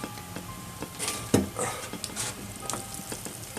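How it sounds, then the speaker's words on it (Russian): A pot of meat boils hard in a wood-fired stove in a small house, giving a steady close bubbling and popping with brief bursts, and no talk. "Ой, кипит, бурлит."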